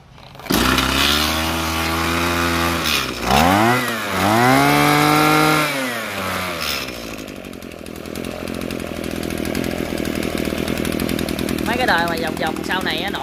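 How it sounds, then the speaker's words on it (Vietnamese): A Maru 26 brush cutter, a Japanese used 26 cc two-stroke, is pull-started and roars into a loud, steady idle with a couple of revving swells, running close and alone for the whole stretch. "Rồi bây giờ em sẽ giật máy nổ nha."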